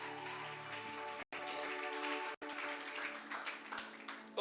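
A church congregation applauds and cheers in acclamation of God. The sustained clapping and voices sit over organ-like tones, broken by two abrupt cuts.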